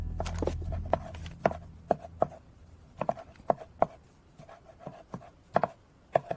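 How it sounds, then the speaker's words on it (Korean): A knife slices large cherry tomatoes on a cutting board for a quinoa salad, giving a run of sharp, close taps in an irregular rhythm with brief pauses, some strokes louder than others. "방울토마토 큰 사이즈 10개 비슷한 크기로 잘라 주었고요."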